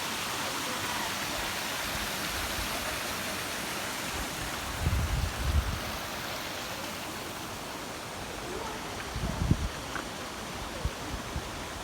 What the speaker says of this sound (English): So there is the waterfall right over there.